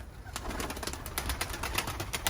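Released pigeons flap and coo close by outdoors, a steady rustle of wingbeats with scattered soft calls and no talking.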